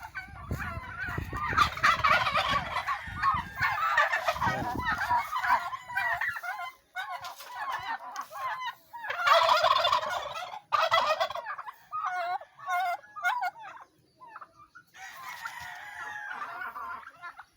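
Turkeys gobble repeatedly in bursts, fairly close, one tied up, with other fowl clucking and calling in between and brief pauses of quiet.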